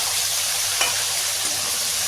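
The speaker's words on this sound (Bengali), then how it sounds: "হালকাতে মাছ ভাজছি" A steady, close sizzle of fish frying in hot oil in a pan, a constant crackling hiss with no voices.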